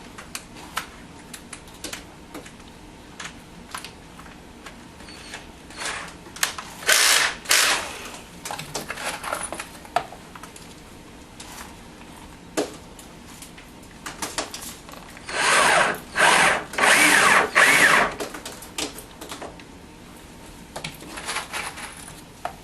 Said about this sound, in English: switch to my Phillips head just so we can get some screws in here